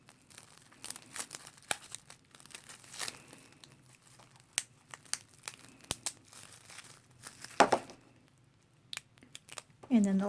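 Plastic sheeting crinkles in scattered close-up bursts as it is wrapped around a small action figure, with quiet pauses between the rustles and a brief rubbery snap near the end.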